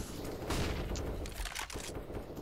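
A faint, quick run of bursts and pops from Counter-Strike: Global Offensive grenades, several sharp hits in rapid sequence, heard at low level without talk.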